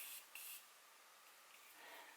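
Short quick spritzes of Morphe Set and Refresh setting mist are sprayed onto a face during a makeup session, two soft close hisses followed by a faint third puff, quiet and without talk.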